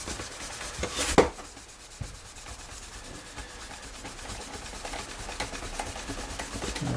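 Grime is rubbed off the frets of a 1992 Fender Prodigy Stratocaster, a continuous close scrubbing hiss with a faint ticking rhythm, one sharp clack early on and no speech.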